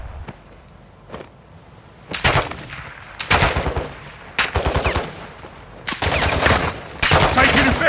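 Call of Duty Warzone gunfire on Ashika Island, with repeated loud automatic bursts up close, each lasting about a second and separated by short pauses, getting denser toward the end.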